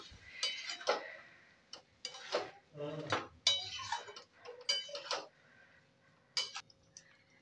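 Black urad lentils being stirred in a pot for dal palak, with a spoon scraping and clinking against the metal in irregular bursts and short pauses, close and moderately loud.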